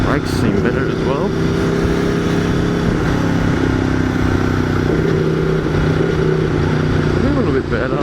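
An Aprilia Tuono V4 1100 Factory engine drones steadily at close range while riding, holding a sustained tone with slight pitch shifts as the throttle changes, along with wind rush.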